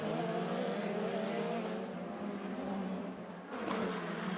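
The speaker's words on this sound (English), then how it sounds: "going down into turn 1, couldn't quite get alongside him, and Munoz was able to take the racing line" Indy Lights race cars racing at Long Beach in 2012, a loud continuous high-pitched engine roar that dips briefly and then surges again.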